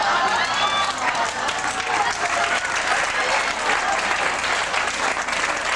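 An audience at a vaudeville-style follies show breaks into sustained applause, a dense, loud wash of clapping filling the whole span with crowd noise underneath.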